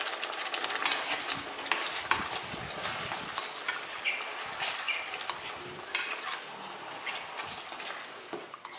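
Thai yellow chicken curry simmering over reduced heat in a pan, with a soft bubbling sizzle under repeated scraping and clinking stirs of a utensil against the pan, close and fairly quiet.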